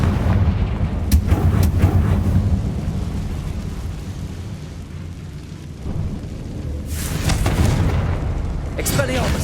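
Deep booming blasts from the Confringo fire spell in Hogwarts Legacy roll out in heavy low rumbles, with a few sharp cracks and a voice calling out over them.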